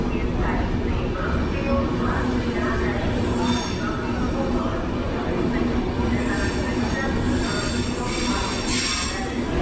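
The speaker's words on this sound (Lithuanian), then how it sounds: "Atvažiuoja traukinys mano." A train rumbles and clatters as it pulls in, steady loud rolling noise with faint squeals and hiss rising toward the end.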